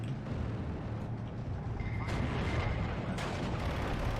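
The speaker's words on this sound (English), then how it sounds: "That is a mortar firing at us" Mortar fire in Steel Division 2 thuds amid a dense, continuous rumble of distant battle, with low booms layered over steady background combat noise and no talk.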